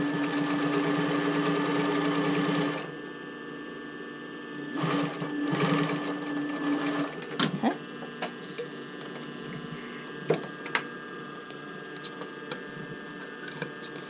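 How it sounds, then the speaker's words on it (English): A sewing machine stitches velvet along the edge of a bra band, running in a steady loud burst for nearly three seconds, then starting again in shorter runs broken by clicks and pauses. "we're just going to take that velvet and stitch it right along the edge"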